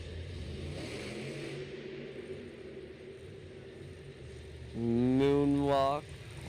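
A Monster Jam monster truck engine works through a nose wheelie at a stadium show in Syracuse, New York, in 2025. A distant low rumble swells into a louder, rising rev near the end.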